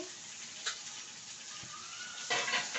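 Chili and onion hit a hot pan in a home kitchen while cooking a red pumpkin vegetable dish, giving a steady, moderate sizzle with brief louder bursts near the start and end.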